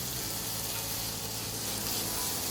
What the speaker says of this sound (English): we have sauteed this till our masala gets cooked really well